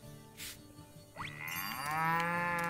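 A cow moos in a barn in the farming game Story of Seasons: Pioneers of Olive Town, one drawn-out, rising low bellow that swells loud and close after a brief soft rustle, with no talk over it.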